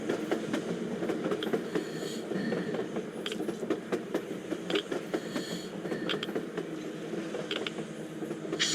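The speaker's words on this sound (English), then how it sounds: "A train! A damn train on the surface!" A train rolls across the surface in the video game Metro Exodus, a steady rumble with rhythmic clickety-clack wheel beats and occasional metallic squeals at moderate distance.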